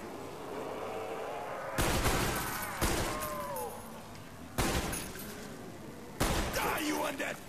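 Gunfire in the Black Ops Zombies Kino der Toten map during round four, with loud repeated bursts of shots starting and stopping in several volleys over steady background game noise, and a voice talking underneath.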